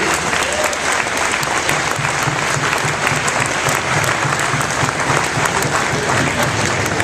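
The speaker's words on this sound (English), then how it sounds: "So why don't you give yourselves a round of applause for doing something really great." A large crowd at a FIRST Robotics competition applauds continuously, a loud, even wash of many hands clapping that holds steady for several seconds.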